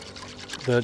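Vinegar sauce poured into a chuckwagon pot of Carolina pork, a short gurgling splash arriving near the end, close and fairly loud after a quiet stretch.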